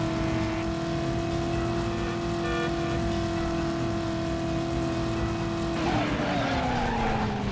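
A car in a PlayStation 1 racing game skids and crashes: a loud, steady whining engine with a constant screech of tires, then a sudden shift into a rougher, noisier burst as the car hits something.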